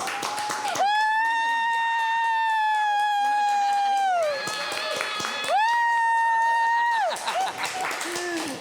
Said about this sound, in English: clap your hands if you believe in Alexis and think she's going to make it and do good